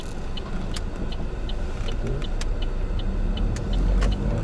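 A Chevrolet Cruze 1.6 with a manual gearbox rolling along in first gear, a low steady engine rumble with faint ticks and rattles inside the cabin, fairly quiet throughout.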